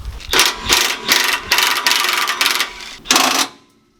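Two 24 mm bolts are removed from the rear Panhard rod of a Nissan Patrol, heard as a close burst of rapid ratchet clicks in several pulses, then a pause and a final short run of clicking.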